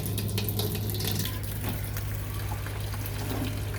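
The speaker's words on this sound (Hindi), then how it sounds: "मैं तसला पानी का भरती हूँ" Tap water runs steadily into a metal basin (tasla), a constant close rushing and splashing with a low hum underneath throughout.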